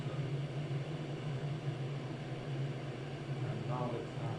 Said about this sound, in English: you can hear the boiling sound from this